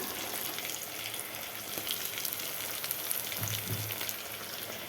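Food fries in coconut oil with a soft, continuous crackling hiss. Faint pops run throughout at low volume, and no one speaks.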